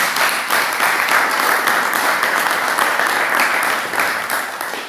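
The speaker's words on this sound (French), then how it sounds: "Applaudissons pour notre Seigneur." A church congregation applauds their Lord, loud, dense clapping sustained for several seconds and filling the room, with no voices over it.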